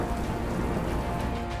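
Heavy monsoon rain in Gujarat pours steadily, a dense, continuous hiss of drops pattering on surfaces, close and even throughout with no voices.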